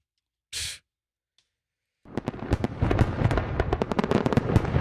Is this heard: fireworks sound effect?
yes